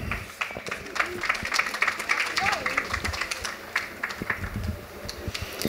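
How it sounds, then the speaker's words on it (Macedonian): An audience applauds at a Skopje literary festival event, with a dense wash of clapping spread across the room, overlapping voices and talk from the stage. "Може и после ова да се става аплауз исто во програмата"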